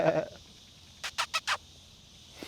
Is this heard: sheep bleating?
yes